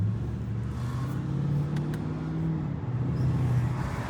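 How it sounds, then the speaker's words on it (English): A Mercedes E55 with a supercharged compressor engine drones steadily from inside the cabin, a low rumbling hum that rises and falls gently in pitch with a faint whine above it, continuous and moderately loud, with no talking. "It's the typical compressor sound. It's just such a comfortable, elegant car."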